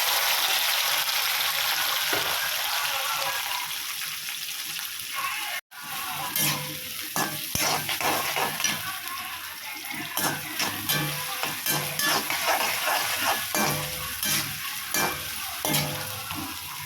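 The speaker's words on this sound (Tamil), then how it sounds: "நல்லா வெங்காயம் வதங்கட்டும்" Small onions fry and are stirred in a pan after chillies, a steady loud sizzle broken by a brief pause, then scraping and clattering spatula strokes over continuing hiss.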